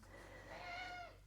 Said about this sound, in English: I have my little cat here who wants to join in